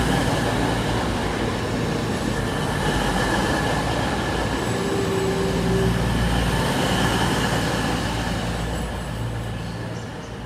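East Midlands Railway train at Derby station, passing close with a loud, continuous rumble, faint wheel squeal and rail noise, easing slightly at the end.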